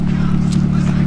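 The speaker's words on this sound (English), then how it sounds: "It's idling pretty damn good." Honda Del Sol engine idling, a steady close low-pitched hum with even pulsing firing rhythm throughout, loud and smooth.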